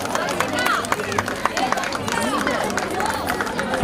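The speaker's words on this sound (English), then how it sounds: "Please give them a big round of applause." An audience in a hall cheers and claps for students receiving ranks at a school prize event, a steady dense wash of clapping mixed with crowd chatter and voices throughout.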